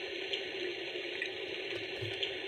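Rain setting on a Munchkin projector sound machine gives a constant, close hiss of falling water, smooth and unbroken without distinct drops standing out.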